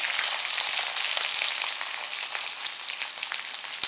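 Onions, green chilies, curry leaves, cinnamon, cloves, cardamom and fennel fry in hot oil in a kadai for roadside-style soya salna, giving a loud, steady, close sizzle with faint crackles throughout.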